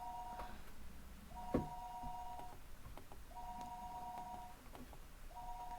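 A phone ringback tone repeats in evenly spaced two-tone pulses, faint and steady, with a single soft thump early on.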